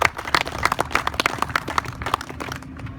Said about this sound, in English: big round of applause for Benny